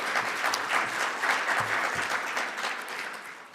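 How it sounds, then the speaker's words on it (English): An audience at a formal commemorative session gives a sustained round of applause that swells and then slowly tapers off toward the end, heard at moderate distance and without speech. "Can we give her another round of applause,"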